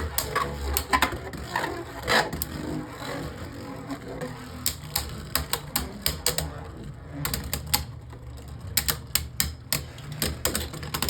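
Beyblade Burst spinning tops, including Fierce Achilles, launched into a stadium and clashing, heard as a dense run of sharp plastic clicks and rattling impacts with bursts of rapid collisions throughout.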